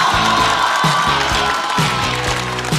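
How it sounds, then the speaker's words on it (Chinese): A studio audience greeting a stand-up comedian at a televised comedy show, loud crowd applause and cheering in a dense wash, with rhythmic thumping music pulsing underneath. "接下来，掌声欢迎陆恒。"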